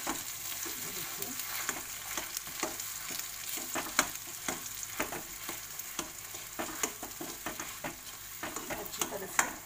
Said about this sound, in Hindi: अच्छी तरह से ऐसे मिक्स कर लीजिए।